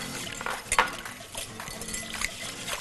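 Onion water is poured over seasoned chicken and meat in a cooking-show kitchen, giving a short liquid splash followed by light clinks of dishes and utensils, close and moderately loud.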